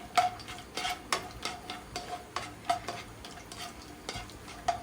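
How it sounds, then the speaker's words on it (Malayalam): Cashew nuts fry in hot oil in a pan as a spoon stirs them, with soft sizzling under repeated light scraping and tapping strokes at a steady pace, close and fairly quiet. "നമുക്ക് ആദ്യം കാഷ്യൂ നട്ട് ഒന്ന് ഫ്രൈ ചെയ്തെടുക്കാം."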